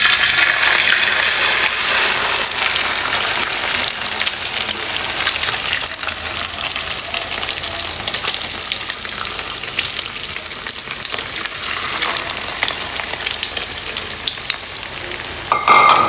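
Ground pork omelette mixture (tortang giniling) sizzling in hot oil in a pan, a loud, continuous close crackle and hiss that stays steady throughout.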